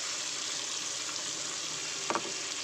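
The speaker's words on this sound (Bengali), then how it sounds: "এর মধ্যে এবারে মশলাগুলো দিয়ে দেবো। একটু আদা রসুন পেস্ট" Spices and ginger-garlic paste fry in oil with onion and tomato in a pan for a boal fish curry, a soft steady sizzle with one brief scrape of a spoon near the end.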